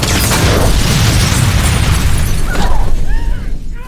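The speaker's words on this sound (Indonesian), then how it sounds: "Sampai akhirnya rumah itu pun meledak." A house blows up in a spy action film, a loud roaring blast with heavy low rumble and crackling debris that fills the first few seconds, then thins as whooshing and fading noise trail off.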